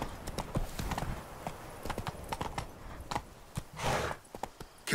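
Hooves of the horse Roach walking in the video game The Witcher 3, a steady close clip-clop rhythm that continues for the whole stretch, with a brief whoosh near the end.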